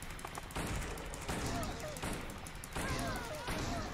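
Rapid bursts of video game gunfire in a horror game, loud and dense, coming in several clustered volleys across the moment with a raised voice audible over the shooting.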